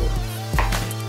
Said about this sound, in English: chopping it up, slicing it delicately